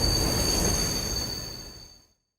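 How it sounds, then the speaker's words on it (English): A train rumbles past with a dense roar and a thin, steady high squeal, then fades quickly into silence. "Stop the train!"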